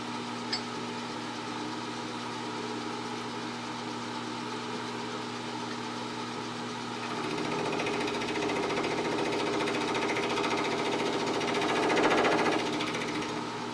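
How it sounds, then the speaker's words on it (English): A milling machine spot milling a 1-5/8 inch spot on the cast frame of an 1880s steam drilling engine, a steady whirring machine hum that grows louder and rougher partway through as the cutter engages, with no talking. "So here we go with doing some spot milling."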